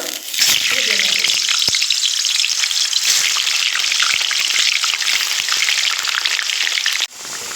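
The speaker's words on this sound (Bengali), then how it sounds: "দেখুন আলুগুলো আমার লাল করে ভাজা হয়ে গেছে" Salted potatoes sizzle loudly in hot refined oil in a pan while being fried for one-pot biryani, a dense continuous crackle close by that cuts off sharply near the end.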